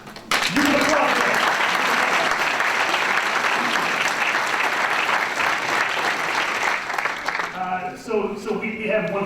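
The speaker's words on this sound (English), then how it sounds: "You can applaud that." A crowd at a high school champions banquet breaks into sustained, loud applause that swells quickly and holds, then fades as a voice begins speaking over the last claps.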